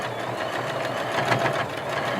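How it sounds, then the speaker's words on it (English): A sewing machine stitching along the edge of fabric in reverse, a steady rapid mechanical whirring and needle thumping, close and continuous without pause. "I'm going to sew right on the edge"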